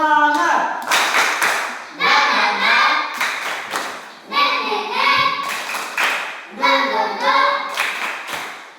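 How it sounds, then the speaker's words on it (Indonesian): Classroom of children doing a 'tepuk semangat' clapping chant, crisp rhythmic bursts of claps in repeated patterns with short gaps between phrases and young voices joining in between. "Mari kita melakukan tepuk semangat."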